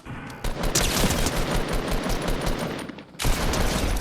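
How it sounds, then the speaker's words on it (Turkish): Dense automatic gunfire rattles without pause in a Fortnite firefight, loud and close, with bursts overlapping for about three seconds before a brief drop and a renewed volley. "Oğlum büyük bir çatışma var orada."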